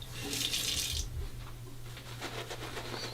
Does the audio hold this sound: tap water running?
yes